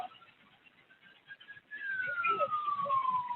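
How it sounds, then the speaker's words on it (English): A police siren wails faintly in the distance, a single rising-then-falling tone swelling after a quiet start, heard under low background noise and a little voice. "So the siren should be, if I put the audio back on, we should hear it."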